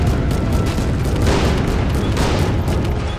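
A heavy, 50 caliber-style machine gun fires in a continuous, loud, dense roar of bursts and booms during an Army Men of War battle, with no talking.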